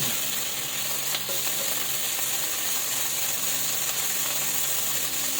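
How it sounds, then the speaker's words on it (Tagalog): Pork sautéing in its own rendered fat in a pan, for ginisang upo, a steady dense sizzle and crackle close up that runs throughout with no voices. "gisingin lang po natin siya sa sarili niyang mantika"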